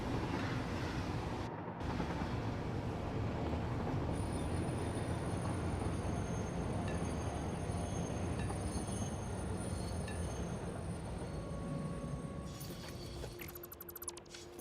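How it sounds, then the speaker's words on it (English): Steady, loud rumble of a train rolling along the track in a video game, continuous throughout with a brief dropout near the start and faint squealing and clicks toward the end. "Once I get out of the train, because I think I have to keep holding W in order for it to keep going the same speed."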